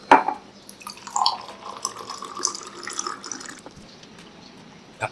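Water pours from a clay pot into a vessel, a steady close trickle with a few drips and clinks at the start and end.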